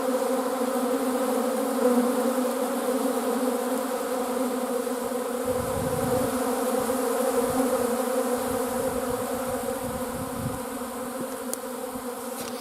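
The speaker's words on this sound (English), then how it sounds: "there's a lot of bees in there" Dense, continuous buzzing of many bees around a hive under robbing attack, steady and close, with no voices.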